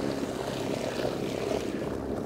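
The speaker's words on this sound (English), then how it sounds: "Trolling motor going nuts here." An electric trolling motor on a bowfishing boat on the Chester River in Maryland runs hard, a continuous churning whir with water wash, steady and close throughout.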